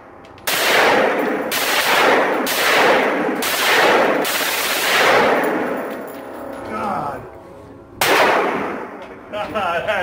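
Assault rifles fire at a shooting range, a run of loud, sharp single shots spaced roughly half a second apart, each ringing out before a brief pause and one more report.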